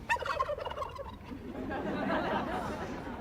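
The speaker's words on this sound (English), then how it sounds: "You picked two great turkeys." A turkey at the White House Thanksgiving pardon ceremony gobbles close and clear, a rapid rattling burst that fades into a softer, lingering warble.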